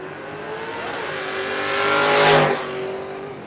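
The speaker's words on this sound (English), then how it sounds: "Garrett Trans, a Tascadero 64 Ranchero with a small block, 5-liter Ford that equals 302 cubic inches, a 12 flat dial." At a drag race, a 1964 Ford Ranchero with a small-block 5-liter 302 cubic inch V8 roars past. Its engine note holds strong, swells to a peak near the end and then eases off slightly.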